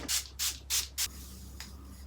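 Heat protectant spray is misted onto hair in four quick, close bursts, followed by a fainter fifth puff.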